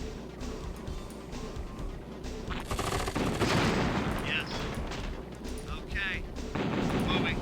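Sniper fire and battle noise from the real-time strategy game KKND: a continuous roar of rapid shots and booming blasts, with a voice talking over the fighting.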